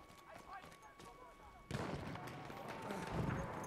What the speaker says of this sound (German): da kam gerade ein Schuss angeflogen